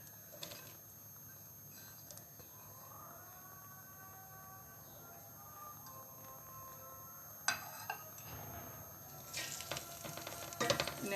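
Finely chopped onions frying in hot oil in a pot, a faint continuous sizzle that grows busier and crackles more in the last few seconds, with occasional stirring clinks.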